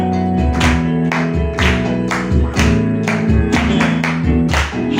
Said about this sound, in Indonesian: Mari kita tepuk tangan bersama-sama di hadapan Tuhan.